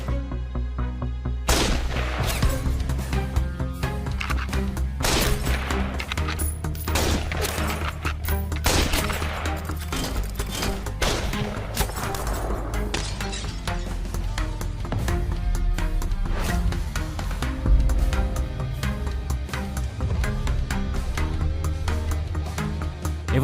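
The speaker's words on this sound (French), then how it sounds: "Nate Foster, charge ton fusil et en joue" Rapid rifle shots from a sniper firing at targets in a dubbed action drama, a dense run of sharp cracks and booms over a continuous music score, with no pauses between hits.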